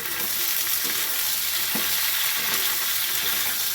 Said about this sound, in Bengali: এইবার দিয়ে দেবো কাঁচা লঙ্কা, ক্যাপসিকাম আর পেঁয়াজগুলো।